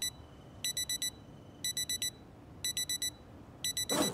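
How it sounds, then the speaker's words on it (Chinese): Alarm clock ringing in the zombie survival game Project Zomboid: four bursts of rapid, bright electronic beeps, each a quick cluster of tones, repeating at a steady pace over a quiet background. "嗯，闹钟在响。"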